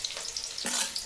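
Onion and capsicum frying in a pan for egg rice, a brief close sizzle with a sharp stirring scrape midway.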